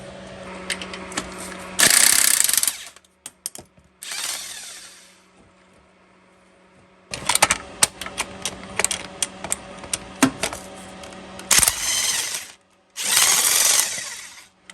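Ratchet and tool work on 13mm starter bolts of a Chevy Suburban during a transmission removal, heard as short bursts of harsh mechanical clatter and whirring separated by quiet gaps and scattered clicks, close by.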